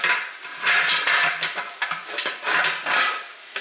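A metal cover is set onto a pressure canner holding jars of mini bell peppers, with a series of clanking and scraping metal-on-metal knocks, close and fairly loud, several bursts across a few seconds.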